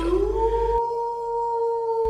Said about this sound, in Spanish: Pronto se oyó un lejano aullido